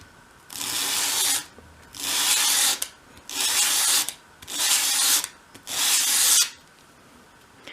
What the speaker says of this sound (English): with your sandpaper flat on your work surface, hold the piece at a 45-degree angle and sweep it towards you